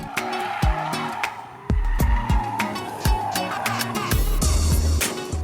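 Mini Cooper S Clubman engine in Sport mode, loud and close throughout, with repeated revving surges and sharp crackles between gear changes.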